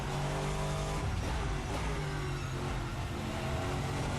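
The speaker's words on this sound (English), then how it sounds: "not only do I have that wonderful engine noise" A GT-M Lux V8 race car in Assetto Corsa roars with a steady, loud engine drone, holding a dense, constant rev throughout with a slight rise and dip, with no talk over it.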